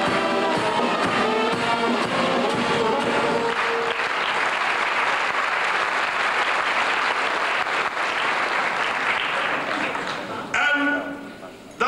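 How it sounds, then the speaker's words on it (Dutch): An audience at a 1995 evening concert gives sustained, dense applause for the Symfonie van Remun orchestra led by Jan Vossen. A voice speaks over the clapping at first, and the applause stays steady before thinning out at the end. "Ik zou nog een speciaal applaus willen vragen voor het schitterende orkest van vanavond"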